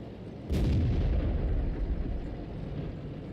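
A tank cannon shell fires in the World of Tanks video game, a single heavy boom followed by a rumbling, fading tail of low noise.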